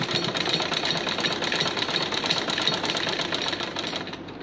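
A sewing machine stitches along the edge of a homemade cloth face mask, a steady fast mechanical whirring hum that runs continuously and fairly loud, with no talking.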